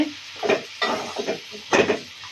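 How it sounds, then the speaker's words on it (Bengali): Country chicken is stir-fried with spices and black pepper powder in a pan, with repeated scraping spoon strokes in uneven bursts over a low, soft sizzle, close and alone. "এখন দিয়ে প্রথমত নেড়ে নেব সুন্দর মতো কষিয়ে নেব মশলা দিয়ে"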